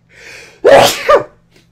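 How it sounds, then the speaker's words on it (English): A single loud sneeze up close, preceded by a short sharp inhale and ending in a quick breathy release. "I think I'm about to sneeze."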